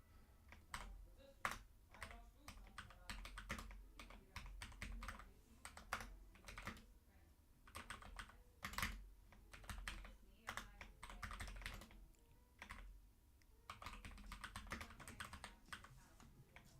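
Quiet but steady typing on a computer keyboard, with dense runs of close key clicks broken by brief gaps.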